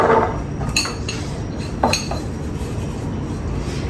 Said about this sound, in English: We're going to put it all into our food processor.